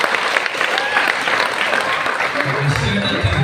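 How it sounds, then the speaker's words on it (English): Church congregation clapping in praise during a worship service, a dense, loud wash of applause with a crowd murmur and voices underneath, holding steady for a few seconds. "Can you give a clap for praise the Lord?"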